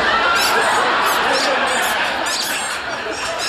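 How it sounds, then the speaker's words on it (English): Quick, high squeaking from leather dress shoes in a bar, a cluster of short chirps in the first half and a few more later, all over a steady background of crowd noise. "Mine are squeaking, too, Cliff."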